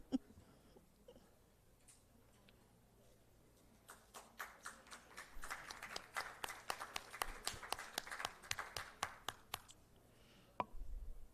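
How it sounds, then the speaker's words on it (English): Audience applause at the launch of a Jamaican violence against children and youth survey report, scattered claps building into a modest, fairly distant round of clapping. "can we have a round of applause"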